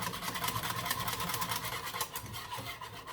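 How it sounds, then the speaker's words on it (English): A whisk scrapes steadily around a pot as semi-sweet chocolate melts into hot chocolate, a continuous close rasping rub that runs unbroken with no voices. "you just want to just stand here and just keep whisking it"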